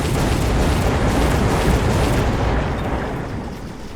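A Vulcan unit firing in the strategy game Mechabellum: a dense, continuous roar of rapid explosive bursts and booms that holds loud, then eases off slightly toward the end.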